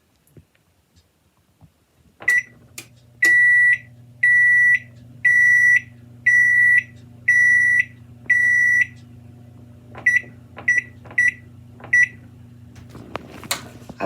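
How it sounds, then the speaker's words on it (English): A kitchen oven timer beeps in a series of steady, evenly spaced long tones, then switches to a quicker run of short beeps, loud and close over a low appliance hum. "Our timer just went off and it's time to pull the bread."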